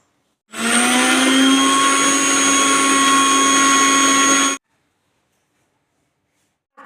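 An electric kitchen mixer grinds green chillies, shallots and salt into a chutney, a loud steady whirring hum for about four seconds that cuts off abruptly into silence.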